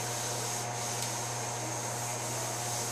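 Hand sanding body filler on a 2005 Honda S2000 with 180 grit paper, a steady close abrasive rubbing that continues evenly without pause.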